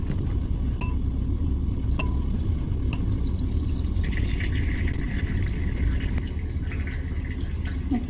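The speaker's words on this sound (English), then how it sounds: "you pour the liquid away from the solid slowly so that the solid can stay settled into the beaker" Liquid poured slowly off a settled solid from one laboratory beaker into another, a thin trickling stream with soft glassy clinks and drips, faint and close, no speech.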